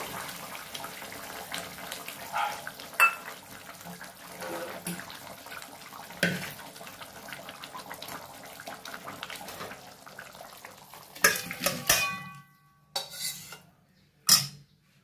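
Katla fish curry is poured and scraped from a pan into a bowl, a soft wet stream with spoon and metal clinks, then several sharper knocks of utensils against dishes near the end, close and fairly quiet.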